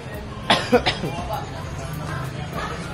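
A person coughs about three times in quick succession, close and fairly loud. Low traffic rumble and murmuring voices fill the background.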